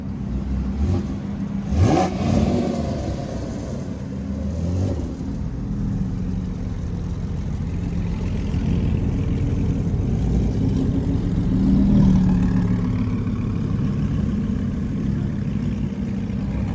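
Audi R8 sports car leaving a Dallas Cars and Coffee meet: a loud nearby rev, then a sustained engine roar as it pulls away, mixed with lot noise and no talk.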